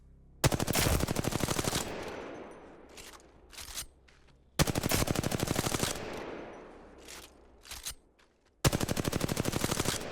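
An Apex Legends gun firing light rounds roars through three sustained full-auto bursts of rapid, evenly spaced shots, loud and close, each burst followed by fading echo and brief clinks before the next.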